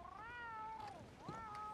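A cat in the video game Red Dead Redemption 2 gives two quiet, drawn-out meows in quick succession, clear and alone.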